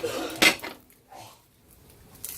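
Mugwort rice cakes are plated into a bowl: one sharp dish clatter stands out, followed by softer taps and scrapes of tableware against the bowl, close by and with no one speaking.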